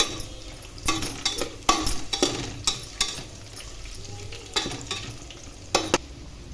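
Green peas and cashews fry with onions in a pan while a spoon stirs repeatedly, giving irregular scraping bursts over a constant sizzle, close and moderately loud.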